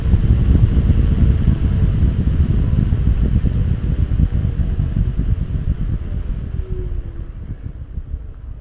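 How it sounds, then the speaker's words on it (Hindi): A 12-volt DC fan on a speed regulator runs at full speed, giving a steady, loud whooshing rush of air close by that eases slightly toward the end, with no voices. "अभी दोस्तों हमारा फ़ैन बिल्कुल फुल स्पीड के ऊपर चल रहा है।"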